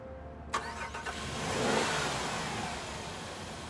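A car engine cranks with a couple of quick turnovers, then catches and settles into a steady running rumble that swells slightly; the engine has a noise coming from the piston.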